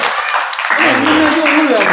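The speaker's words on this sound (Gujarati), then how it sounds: "તાળીઓ પાડો બધાય બધાય" A group of people claps together in a dense, continuous burst of applause, close and fairly loud, with voices mixed in.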